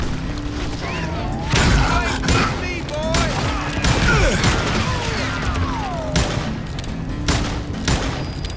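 Sawed-off shotgun blasts from the Call of Juarez: Gunslinger game, several loud booming shots at irregular intervals mixed with game effects and music, with a voice talking over them.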